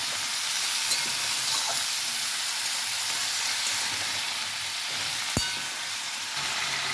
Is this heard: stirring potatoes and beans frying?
yes